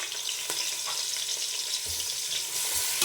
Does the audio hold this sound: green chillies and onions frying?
yes